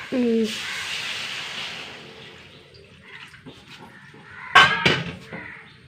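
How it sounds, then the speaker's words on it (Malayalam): Hot water poured into a hot pan of spiced egg curry base with green chillies, giving a broad hissing sizzle that fades over several seconds, followed by a few clatters near the end, with no talk. "ചൂടുവെള്ളം ഒഴിച്ച് കൊടുക്കാം കേട്ടോ."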